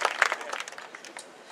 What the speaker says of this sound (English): Congratulations. Let's give them a round of applause.